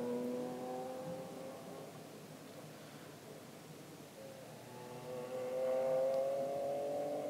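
A race car at speed on the Mugello circuit, its engine note droning steadily throughout and rising in pitch as it accelerates near the end, loud and continuous with no voices.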